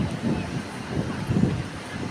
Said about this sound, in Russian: Вот он, ветер.